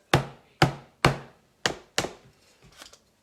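An oatmeal container in a kitchen is tapped five times in a steady rhythm, each hit a sharp, close hollow knock that decays quickly, followed by a softer, scrappier tap at the end.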